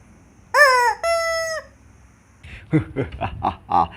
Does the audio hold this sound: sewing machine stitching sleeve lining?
no